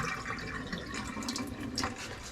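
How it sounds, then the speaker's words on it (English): Tap water runs steadily into a pot while rice is rinsed for a winter beef soup, a continuous close splashing and trickling with small sloshes and no talk. "So you pretty much do this until the water is clear when you rinse it out."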